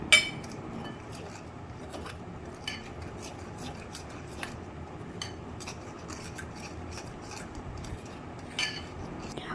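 A fork or ladle beats laddu batter in a bowl, producing steady soft scraping and rubbing with light scattered clicks of metal against the bowl.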